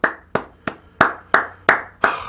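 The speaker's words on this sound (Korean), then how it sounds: "최종 리뷰하기 전에 우선은 박수 한번 칠게요." Seven sharp hand claps land at a steady, unhurried pace, loud and close, with nothing else heard between them.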